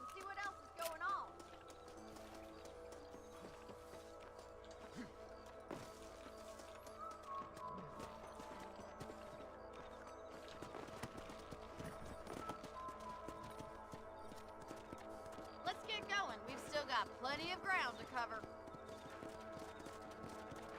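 Horse hooves clip-clop steadily at a moderate distance in Red Dead Redemption, a western video game, running under background music and game sounds while someone talks over them.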